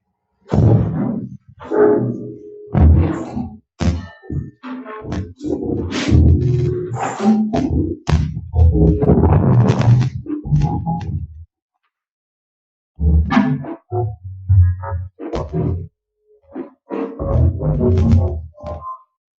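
Harsh, noisy bursts shaped like garbled speech, roaring and growling in irregular phrases separated by short silences, loud and close.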